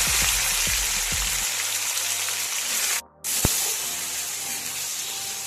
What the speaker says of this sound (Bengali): এর মধ্যে আমি টমেটোগুলো যেগুলো কেটে রেখেছি এর মধ্যে দিয়ে দেবো।